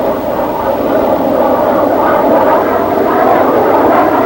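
A big McDonnell Banshee jet fighter performs a fast roll, its engine a loud, steady roaring rush that stays constant throughout, with no voices over it.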